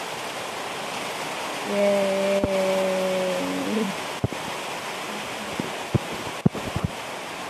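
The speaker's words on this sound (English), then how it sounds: "And that's the rain." Rain falls steadily outdoors as a broad, even hiss, with a few sharp taps and knocks near the microphone. A voice briefly hums or calls over it partway through.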